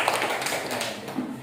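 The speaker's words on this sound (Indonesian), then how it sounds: "Tepuk tangan untuk kelompok 3." Brief burst of classroom clapping for a group of third-grade primary school pupils, close and busy, lasting only a moment.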